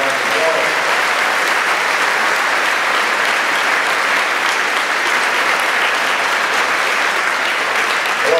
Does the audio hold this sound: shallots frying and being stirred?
no